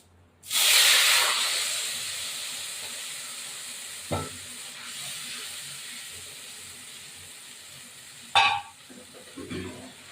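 Spices go into a hot frying pan for a prawn and pumpkin curry, setting off a loud hissing sizzle that steadies into continuous frying, broken by a few sharp stirring scrapes and clinks.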